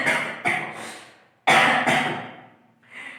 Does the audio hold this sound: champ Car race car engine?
no